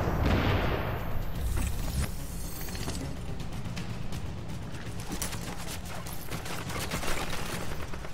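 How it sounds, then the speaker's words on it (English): Rapid bursts of gunfire in The Division video game crackle continuously with scattered sharp impacts and a low rumble at the start, loud and busy throughout. "You're gonna take all kind of freaking gunfire"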